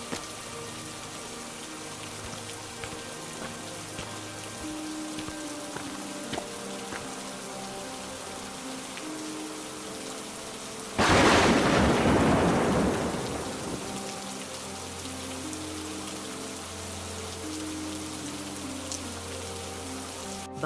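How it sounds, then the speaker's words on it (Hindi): Heavy rain pours steadily throughout, with a sudden loud thunderclap near the midpoint that rumbles and fades over a few seconds, under a soft musical backdrop. "बारिश ज्यादा हो रही है"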